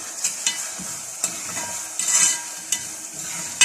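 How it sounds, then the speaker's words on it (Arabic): Spices and onion frying in ghee, a steady close sizzle punctuated by sharp scraping stirs of a utensil against the pan every second or so. "كل الكلام ده بقى هيتحمر مع السمنه مع البصل"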